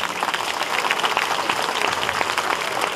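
Dense, steady applause fills an evening variety show for the over-50s in Vaiano, a packed audience clapping loudly and evenly from start to end with no break.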